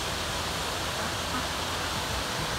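A waterfall beside the Swamp Rabbit Trail in Greenville, South Carolina, gives a steady, dense rushing roar that stays even and continuous throughout, with no clear voices.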